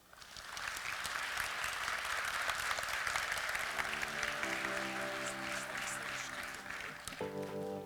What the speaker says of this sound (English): One more round of applause for Cortney.